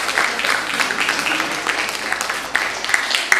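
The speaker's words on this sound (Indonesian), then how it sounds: "Tepuk tangan untuk beliau." Applause from a seminar audience welcoming a midwifery speaker, a steady mid-level patter of many hands that carries on evenly for several seconds, with a few sharper claps near the end and a faint voice mixed in.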